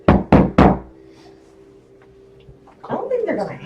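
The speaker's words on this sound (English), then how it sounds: "So you knock on the door." Three loud, sharp knocks in quick succession during a tabletop Dungeons and Dragons session, followed by a quiet pause and then voices talking.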